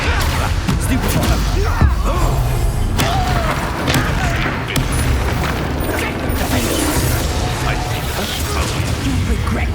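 Spell-casting combat in Hogwarts Legacy, dense layered magic blasts, booms and whooshing effects under a constant loud game mix, with a voice calling out over it.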